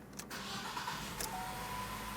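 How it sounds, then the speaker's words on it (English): A 2012-2020 Ford Focus engine starts after a radiator replacement, a faint crank followed by a steady low engine run, heard alone. "let's turn on the engine at this point"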